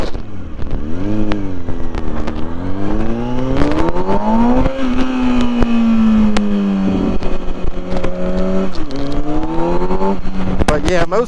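A 2006 Kawasaki Ninja ZX-6R 636 sport bike revs hard and accelerates through the gears. Its engine pitch climbs, drops at each shift and climbs again, loud and close, over steady wind rush.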